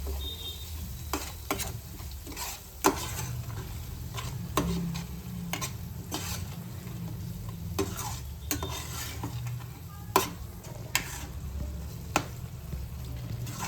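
Masala with garam masala stirred and sizzling in a pan for dhaba-style aloo matar, a steady low fry hiss broken by repeated spoon scrapes and taps against the pan, close up with no talking.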